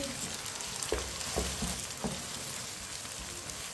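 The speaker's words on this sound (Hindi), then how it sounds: "1 मिनट के लिए मैंने पका लिए अदरक और लहसुन को।" Crushed garlic and ginger fry quietly in a pan for a biryani masala, giving a soft continuous sizzle with a few light stirring taps and scrapes.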